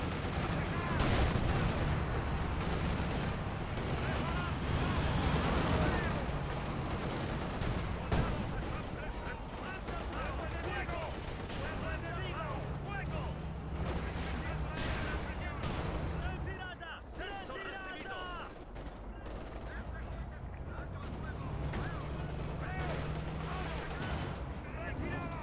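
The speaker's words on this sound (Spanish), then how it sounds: "Tienen una artillería." Artillery fire and other gunfire in a 2v2 match of the Company of Heroes 2 video game, OKW faction, as a dense, continuous barrage of loud booms and shots over about 25 seconds, with voices talking throughout.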